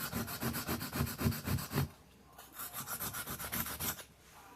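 A knife blade is stroked across a whetstone in a rapid, regular series of gritty rasping passes, close and clear, pausing briefly midway before another run of even strokes.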